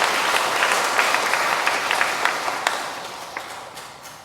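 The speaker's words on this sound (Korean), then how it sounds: "박수로 환영해 주시기 바랍니다." Churchgoers applaud in a parish gathering, a sustained burst of many hands clapping that slowly thins and fades over about four seconds.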